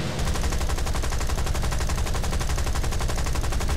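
Aircraft machine guns in the War Thunder combat game fire in a loud, unbroken stream of rapid rattling shots for the whole stretch, with no voices over it.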